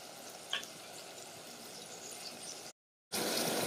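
Green chillies and curry leaves lightly frying in a pan give a steady, soft sizzle, with a brief sharper crackle near the start and a short drop to silence before the sizzle returns.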